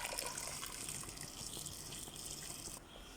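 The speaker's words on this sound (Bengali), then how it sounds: "গরম পানি দিয়ে দিচ্ছি।" Hot water pours onto meat in a cooking pot in a steady stream for about three seconds, then cuts off abruptly; close and clear, no talking.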